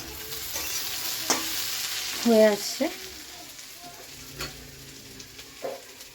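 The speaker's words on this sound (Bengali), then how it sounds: "আলু পেঁয়াজ ভাজা বসিয়েছি" Potatoes and onions fry in a home kitchen pan while being stirred. A steady sizzle runs throughout, with a few sharp spatula knocks and scrapes and a brief bit of speech.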